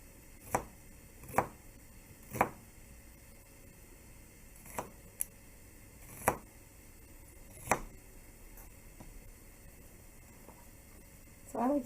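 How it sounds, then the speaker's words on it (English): A knife dices onions into small pieces on a cutting board, landing about eight separate, sharp chops spaced irregularly over quiet room background. "We're going to go ahead and do really smaller diced onions today"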